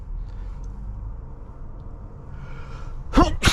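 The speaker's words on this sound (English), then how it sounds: "Sneezing out of control here." Two quick, loud sneezes burst out near the end of a steady low road rumble inside the cabin of a moving 2024 BMW X5 M60i.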